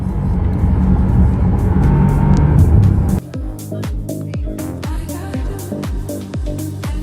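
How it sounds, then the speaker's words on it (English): A 2025 Bentley GT's exhaust roars under load, then the throttle lifts and a rapid string of sharp pops and bangs crackles out, close and loud, repeating over several seconds. "you hear the pops and the bangs as you let off the gas"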